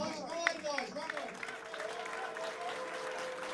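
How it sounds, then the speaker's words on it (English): Applause and cheering rise from a LAN audience at a TF2 6v6 grand final as a player is celebrated, with clapping under a voice talking loudly over the crowd. "Can we get a big round of applause for Ryan"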